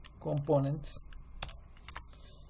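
Typing on a computer keyboard: a few scattered key clicks, light and close, following a short stretch of speech.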